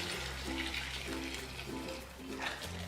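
Boiling salted water pours steadily onto rice and chicken in a pot, a continuous rushing splash over a low, constant background hum for about three seconds.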